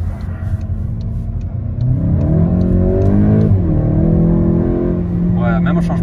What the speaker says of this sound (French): même au changement de rapport, t'entends une petite déflagration